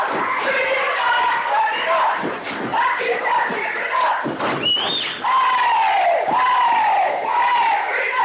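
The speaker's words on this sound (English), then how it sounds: "The crowd is cheering. They're dancing to the cheerleaders chant." Basketball game crowd in a gym cheering and chanting along with the cheerleaders, a dense, steady roar of many voices with rising shouts and a whistle-like cry midway, loud and close throughout.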